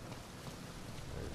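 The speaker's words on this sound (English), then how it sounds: "It's rainy and storm." Rain and storm wind in Uncharted 4 at sea, a short, steady wash of dense hiss with a low rumbling roar beneath, with no talk.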